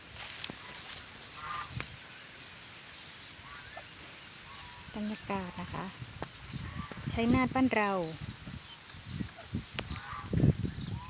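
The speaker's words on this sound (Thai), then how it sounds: "เสียงห่านก็ดังเหลือเกิน" Geese honking on a rural Thai farm among ducks, scattered honks and squawks in short bursts, louder toward the end, with someone talking over the background.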